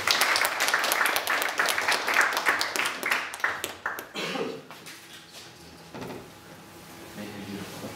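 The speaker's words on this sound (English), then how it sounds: "Everybody give Will a round of applause" A studio photography club audience claps for a presenter, a dense patter of hand claps that is loud at first and thins out after about four seconds, with scattered claps and room noise trailing off.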